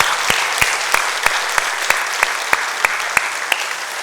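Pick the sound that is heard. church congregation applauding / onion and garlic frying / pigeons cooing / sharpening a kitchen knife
church congregation applauding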